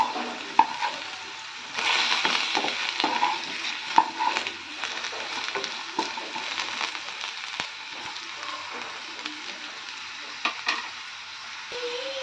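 Potatoes and bitter gourd frying in a pan, a steady close sizzle with occasional crackles and a few clicks of stirring, no voices.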